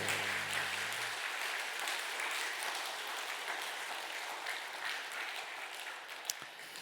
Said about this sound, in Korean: 마음 담고 박수